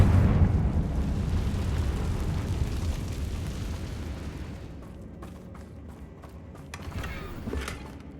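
A Confringo fire spell explodes in the Hogwarts Legacy video game, giving a loud rumbling blast that rolls on and slowly fades, with debris crackling and thudding toward the end.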